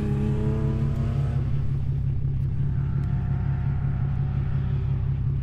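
A truck's V6 twin-turbo engine idles with a steady, deep rumble and low droning hum, close and even throughout, with no voices.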